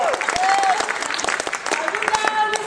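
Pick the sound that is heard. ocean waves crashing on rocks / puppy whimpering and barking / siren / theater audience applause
theater audience applause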